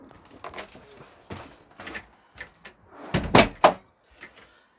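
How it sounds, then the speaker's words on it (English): A caravan door, on an FC Swift Conqueror 480, is pulled shut from inside with a few rattling clicks and then a firmer pair of thuds from the latch and frame, close by and with no voices. "shut the door behind us."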